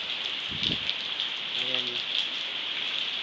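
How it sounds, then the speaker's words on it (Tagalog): Heavy rain pours down in strong wind during the rainy season, a dense, steady hiss that fills the whole moment, with a brief voice speaking over it. "ulan."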